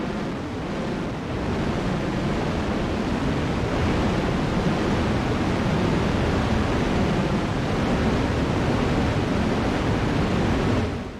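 Dense broadband noise patch played on an Argon8 synthesizer, a steady loud hiss like roaring surf that holds without a break for about eleven seconds, with no voices.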